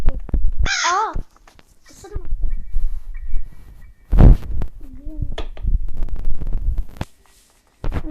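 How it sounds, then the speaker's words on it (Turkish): A crow caws close by in a short harmonic burst, with people talking in Turkish before and after it. "Karga."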